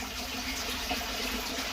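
Water from an axolotl pond runs steadily up a big black tube toward a wetlands bog filter, a constant close rushing gush with no pauses.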